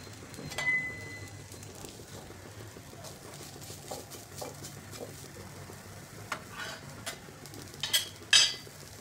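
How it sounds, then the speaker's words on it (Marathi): Onion frying in plenty of oil for a traditional Maharashtrian masvadi curry: a soft, steady sizzle with occasional stirring clicks and a few louder scrapes near the end, fairly quiet and without speech. "आता हा कांदा थोडासा जास्त भाजून घ्यायचा आहे आपल्याला."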